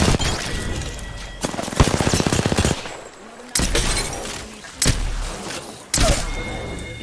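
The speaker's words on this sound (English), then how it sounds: "I think he's shooting" Gunfire in an Apex Legends match: several loud, close bursts of automatic fire in quick succession, separated by short pauses, with a brief rapid volley in the middle.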